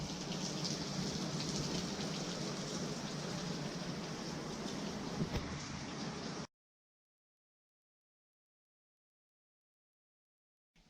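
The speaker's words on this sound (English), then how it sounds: "The rains are obviously coming down the east coast of Australia as predicted" Steady rain pours on a roof during stormy weather on Australia's east coast, a dense, even hiss that runs for about six seconds and then cuts to silence.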